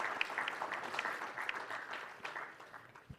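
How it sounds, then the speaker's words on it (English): A conference audience at an international gathering breaks into a round of applause, a steady patter of many hands with a few sharper individual claps, gradually tapering as it goes on. "let's put our hands together, ladies and gentlemen, a round of applause for that"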